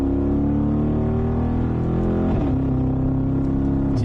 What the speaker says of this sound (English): The noise of those exhausts